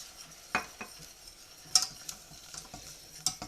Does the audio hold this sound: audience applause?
no